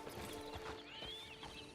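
Horse hooves clip-clop in Red Dead Redemption 2, a few irregular hoof thuds close by, mixed with faint tonal game background sounds and a brief whistling rise.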